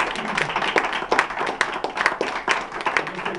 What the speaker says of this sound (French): Encore une fois, les applaudissements.